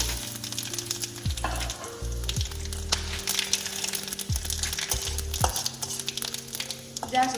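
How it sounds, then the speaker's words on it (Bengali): Whole cumin, bay leaves, dried red chillies, cinnamon, cloves and cardamom frying in hot oil, a loud, steady sizzle with brief stirring scrapes and clinks throughout. "গোটা জিরে এক চামচ তেজপাতা দুটো শুকনো লঙ্কা আর গরম মশলা দারচিনি লবঙ্গ এলাচ রয়েছে আমি দিয়ে দিচ্ছি এগুলো তেলের মধ্যে"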